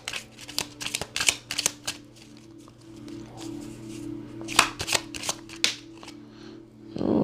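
Tarot cards are shuffled by hand in quick, uneven bursts of riffling and sliding, close and fairly quiet, with short pauses between runs.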